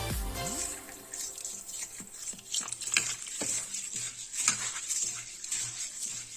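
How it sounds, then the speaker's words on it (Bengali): Rice for chicken biryani being washed by hand in a bowl of water, with steady swishing, sloshing and light clinks close by and no talk. "দু তিনবার জল পাল্টে পাল্টে আমি চালটা ধুয়ে নেব"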